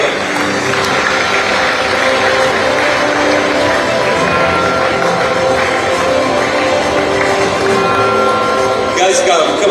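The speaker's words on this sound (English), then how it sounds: "we need to do better with a round of applause" An audience at a football award ceremony claps and cheers for a top goal scorer. The applause is dense and continuous, filling the hall at steady loudness, with a voice mixed in.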